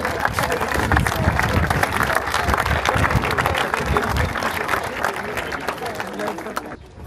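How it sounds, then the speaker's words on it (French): Lively outdoor crowd applause for a sub-prefect at a foundation-stone ceremony, close and loud clapping mixed with scattered cheers and crowd murmur, easing off near the end. "Et on peut applaudir Monsieur le sous-préfet."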